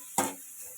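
A single short burst of sizzling as capsicum is stirred in a hot pan, brief and close, then quiet frying hiss.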